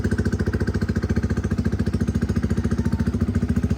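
A Yamaha YZF-R15 motorcycle idles close by with a loud, rapid pulsing exhaust beat, steady and unbroken throughout.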